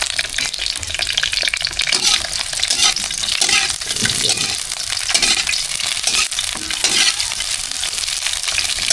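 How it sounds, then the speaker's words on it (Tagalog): Kabanatuan longganisa sausage sizzles and crackles steadily in a frying pan, with scraping stirring sounds and occasional clinks close by, continuous and fairly loud, with no talking. "luto natin tong longganisa ng Kabanatuan guys"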